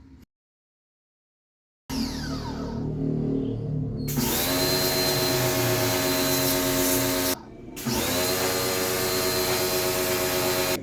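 A pressure washer sprays water onto an air conditioning unit, a loud continuous hiss and whine that cuts off briefly several times and restarts, with a mechanical hum underneath and no talking.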